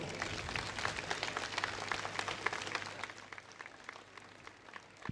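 An audience at the Sanatan Sangam event in Mumbai applauds with steady, moderately faint clapping that gradually thins out toward the end.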